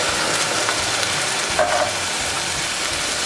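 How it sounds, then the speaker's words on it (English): Coconut milk being stirred into rice and beans in a pan over high heat, a steady sizzle with soft scraping and stirring throughout. "I'm just gonna mix that together with the rice and beans"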